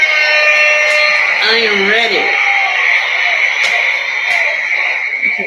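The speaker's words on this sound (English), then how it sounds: "Take my buzzer back." A buzzer held by a presenter gives a steady, loud electronic tone that runs the whole time, while a voice speaks briefly over it.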